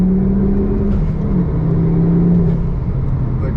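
Ford Focus ST3 turbocharged engine pulling hard out of a corner, a loud, close cabin drone that holds and slowly climbs in pitch under acceleration, with no talking.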